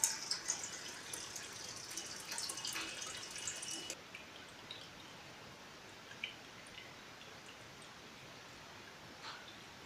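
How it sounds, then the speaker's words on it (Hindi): Water runs from a tap into a homemade electric geyser tank, a steady rushing hiss for about four seconds that drops to a softer trickle with scattered drips, with no voices. "हमारे इस वॉल को चालू करते हैं तो देख सकते हैं यहाँ से पानी आने लगा है।"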